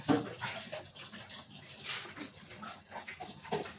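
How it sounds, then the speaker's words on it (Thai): A dog howls and whines faintly in the background outdoors while fish is grilled, a few drawn-out cries rising and falling over low ambient noise. "หอนหอนมันหอนอยู่"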